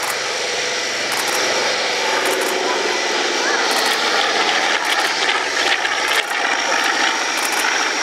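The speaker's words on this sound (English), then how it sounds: "he's going to come back through now, and this will be another low pass" An RNZAF Boeing 757 jet makes a low pass at an air display: a loud, steady roar that fills the whole clip, with a commentator talking over it through a public address system.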